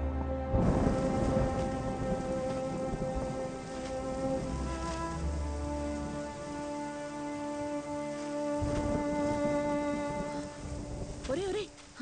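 Rain falls steadily with low rumbles of thunder through the scene, partly covered by music and background tones, with loud bursts of low rumbling at the start and again near the middle.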